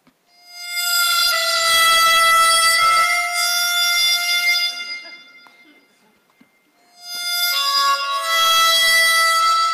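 A horn blares in two long, loud sustained tones, the first lasting several seconds and the second starting after a short pause, with no talk over it.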